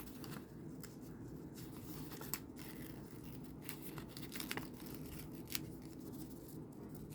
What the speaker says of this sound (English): So all I'm doing is just peeling it away. Peeling it off of the t-shirt or the onesie.